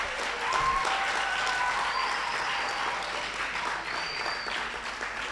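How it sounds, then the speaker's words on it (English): Audience at a student-organized rebranding event claps, a steady wash of many hands applauding, with a few faint voices and whistle-like tones mixed in. "Can we give ourselves a clap?"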